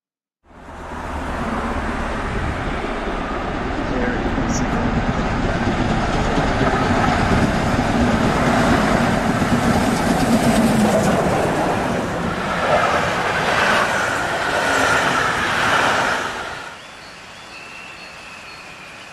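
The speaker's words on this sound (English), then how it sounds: "running trains at full cry along the Moselle main line to Koblenz" A steam locomotive hauling a train roars past close by at full power for over fifteen seconds on the Moselle main line, Germany, a loud steady rush with rhythmic chuffing and rattling, then fades quickly away.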